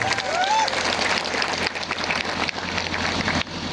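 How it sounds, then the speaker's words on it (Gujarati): Crowd at an outdoor political rally claps loudly for police officers and constables, a dense sustained roar of applause with some voices mixed in, full and close throughout. "તમામ માટે એકવાર આપણે જોરદાર તાળીઓ પાડી લઈએ"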